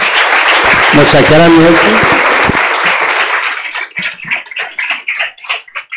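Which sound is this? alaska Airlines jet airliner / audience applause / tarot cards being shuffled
audience applause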